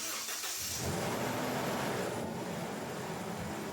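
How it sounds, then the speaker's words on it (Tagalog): Toyota Innova engine starting after repair work on a noise that appears when hot: a brief cranking at the start settles into a steady, close idle hum that carries on to the end, no talking. "pwede ko nang pa-start itong makina para si customer na yung humatol"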